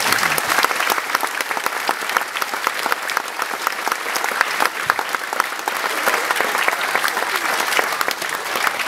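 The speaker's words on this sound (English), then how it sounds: "I'm sure you'd join me in just applauding what they've done" Sustained audience applause at the grand opening of a new facility, a dense, steady wash of many hands clapping that holds evenly loud throughout without a break.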